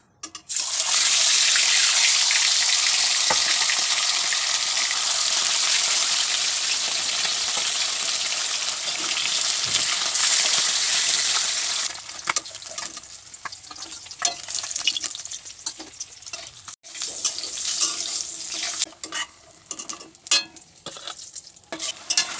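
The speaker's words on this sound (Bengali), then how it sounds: "মশলাটা কষানো হয়ে গেছে" Hand-ground spice paste sautéing in a pan for a fish curry with drumsticks, a loud continuous sizzle and stirring for about twelve seconds, then quieter scraping and clatter.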